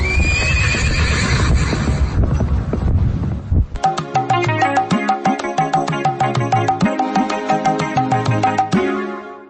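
A flying horse whinnies loudly in a Hindi children's radio drama, a long close neigh, followed by a bright, rapid rhythmic clip-clop of hooves mixed with twinkling music that carries on steadily to the end.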